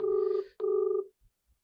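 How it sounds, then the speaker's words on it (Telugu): An outgoing phone call rings back with two ringing tones separated by a short gap, clear and close, followed by near silence. "రింగ్ అవుతుంది."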